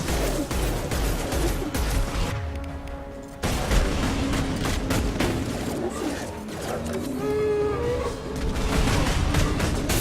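Dense, continuous gunfire and explosive booms from the Mass Effect 2 video game, a loud chaotic battle mix with crashes and mechanical noise throughout, under faint game voices.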